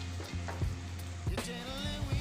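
Ginger and garlic fry in a pan for an egg gravy, with a low steady sizzle broken by a few sharp stirring scrapes and clatters, close and moderately quiet.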